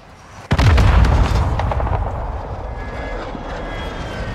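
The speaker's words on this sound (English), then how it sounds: "Friendly precision airstrike inbound." A precision airstrike in Call of Duty MW2 DMZ: a sudden loud blast followed by rolling explosions and a long rumbling decay with aircraft drone fading into the background.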